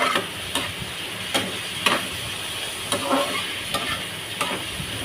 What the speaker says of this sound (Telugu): ఉల్లిపాయ ముక్కలు బాగా దోరగా వేగేంత వరకు వేయించుకోవాలండి